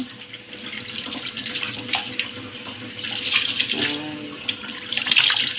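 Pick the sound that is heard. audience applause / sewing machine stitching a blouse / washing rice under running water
washing rice under running water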